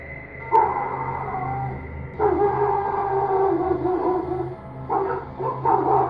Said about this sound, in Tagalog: Dito ay maririnig ang mga kahol ng mga aso ng kapitbahay